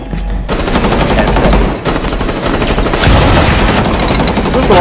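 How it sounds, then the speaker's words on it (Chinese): Machine gun fire in the tactical shooter Rainbow Six Siege, a loud, dense, continuous rattle of rapid shots with a short dip partway through before resuming at full intensity. "用机枪，用机枪，用机枪，用机枪！"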